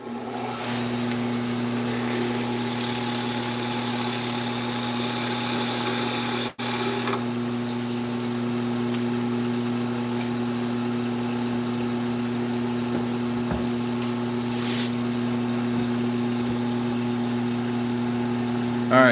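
A wood lathe spins steadily with a continuous motor hum and whine as a skew chisel turns a wooden yoyo, a faint scraping texture riding over the drone with one brief dip partway through.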